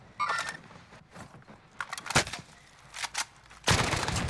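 Gunfire in Call of Duty Warzone: scattered sharp shots and short bursts at varying distances, some faint and others louder and close, separated by quieter gaps.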